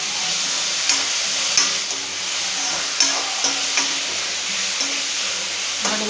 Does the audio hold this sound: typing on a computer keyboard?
no